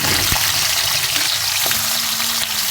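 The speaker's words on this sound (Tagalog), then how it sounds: "gigisa muna natin tong pork para lumutong yung ating karne" Cubes of pork sautéing in a pan, being browned until crisp: a loud, steady close-up sizzle of frying fat, broken by a couple of faint knocks.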